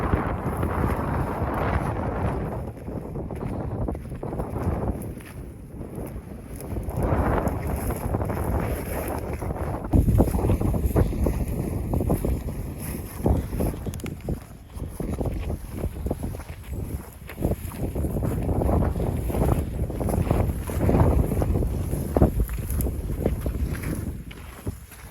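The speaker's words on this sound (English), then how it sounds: "as you can probably tell, it is super windy" Strong wind buffets the microphone in heavy, roaring gusts that rise and fall continuously throughout, outdoors on a Coues whitetail deer hunt.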